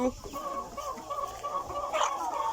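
A flock of about twenty adult hens clucks steadily in a backyard coop, with overlapping, continuous murmuring calls close by and one louder squawk near the end.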